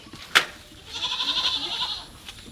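A goat gives one drawn-out nasal bleat, loud and close, preceded by a short sharp knock, with a faint second sound trailing at the end.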